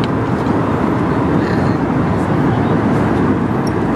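Inside an airplane cabin during flight, a steady, loud broadband engine and air roar drones on without change.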